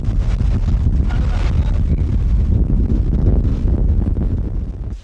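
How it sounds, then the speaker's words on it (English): Strong, steady wind roars and buffets the microphone during a severe outback sandstorm, a loud continuous low rumble with gusts that swell and ease over the whole stretch, no voices audible. "it's pretty windy today"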